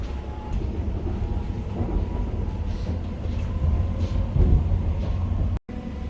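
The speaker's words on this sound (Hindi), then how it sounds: "This is the train to Liverpool Street." A London train bound for Liverpool Street runs along the track, a steady low rumble with faint rattling and clatter, close and continuous, briefly cut out near the end.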